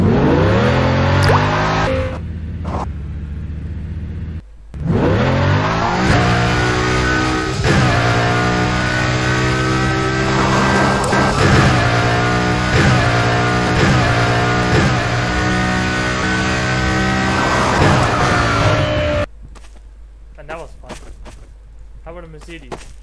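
A Lamborghini Murcielago in Garry's Mod revs loudly and steadily for most of the stretch, with rising and falling engine tones and brief gaps, then cuts off near the end.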